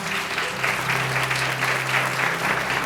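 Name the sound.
church congregation applauding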